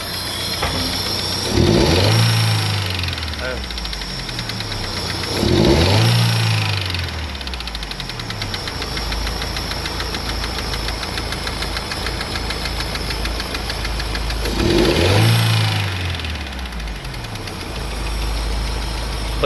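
Daewoo Nexia engine idling with a camshaft knock, a steady rapid ticking over the running motor, with three heavy swelling revs rising and falling at intervals.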